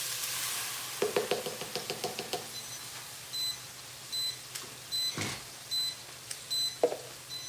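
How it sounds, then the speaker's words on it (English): Chopped vegetables hit a hot pan on medium heat for gumbo, a burst of loud sizzling and stirring clatter, then quieter frying punctuated by a few beeps and scraping taps. "we saute the veggies"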